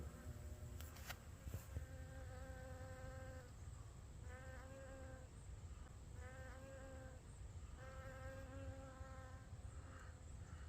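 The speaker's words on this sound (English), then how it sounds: "Honeybee." Honeybees buzz steadily around citrus trees outdoors, a continuous close insect drone with several louder passes as bees fly near, alone with no talking.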